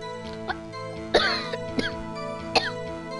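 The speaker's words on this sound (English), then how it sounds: "coughing is a voice actor's worst fear" Several sharp coughs from a voice-acting a dub of Ace Attorney, two or three bursts spaced about a second apart, close and fairly loud over a faint background hum, with no speech.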